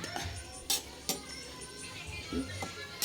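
Two ladles stirring patola misua soup in a wok on a stove, a few distinct metallic clinks and scrapes at irregular intervals over a quiet background, close by.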